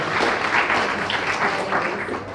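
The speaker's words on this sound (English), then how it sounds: "Round of applause for Bert Van Manen" A room full of business breakfast attendees gives a round of applause for a guest, steady and dense clapping lasting throughout at close range.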